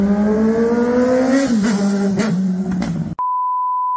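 Motorcycle fitted with a small 1.5 exhaust revving up: a loud, close engine note climbs steadily, then wavers and falls back, and is cut off by a steady electronic beep tone.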